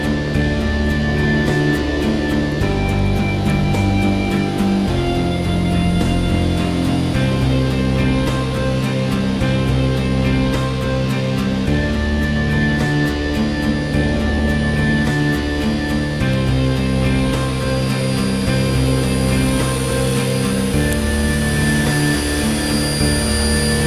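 A scale radio-controlled helicopter with a lightweight woven epoxy fiberglass body and anti-clockwise main rotor flies with a steady high whine and layered droning hum, loud and unbroken throughout, no talking over it.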